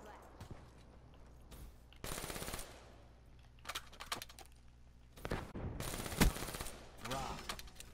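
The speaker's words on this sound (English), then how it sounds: "There's so much recoil on this gun." Gunfire in the video game Black Ops III: repeated bursts of automatic fire with sharp cracks, separated by short pauses, fairly close and punchy, with a voice speaking between the volleys.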